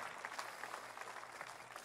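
Church congregation applauding during a Sunday service, a steady wash of many hands clapping at moderate distance, fairly faint and continuous throughout.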